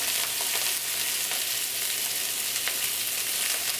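Garlic sautéing in a hot pan for a potato and meat stew, giving a steady, loud, close sizzle with faint crackles throughout and no talking.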